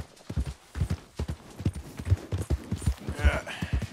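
Rapid rhythmic hoofbeats of a galloping horse in the video game Red Dead Redemption II, loud and close, with a brief whinny near the end.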